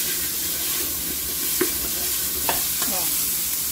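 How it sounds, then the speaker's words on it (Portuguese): Onion and annatto (colorau) frying in a pan for mocotó, a steady dense sizzle with a few light stirring scrapes and clinks, no talk. "antes de colocar o mocotó, eu vou colocar aqui a cebola e vou colocar colorau"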